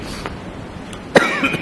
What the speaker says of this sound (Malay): Batuk sikit makcik, baru balik.